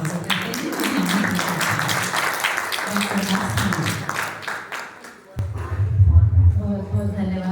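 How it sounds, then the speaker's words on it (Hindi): Applause from an audience welcoming a guest speaker, Dr. Aastha Naval, at a Hindi literary session, a broad clapping texture running for several seconds, then a louder burst of claps and voices near the end. "आइए जोरदार तालियों से हम डॉक्टर आस्था नवल का स्वागत करते हैं।"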